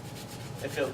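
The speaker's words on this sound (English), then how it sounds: "Then you are going to scrub your shoe." A brush scrubs a shoe with cleaner in a short, soft continuous rubbing, close and quiet with no talk.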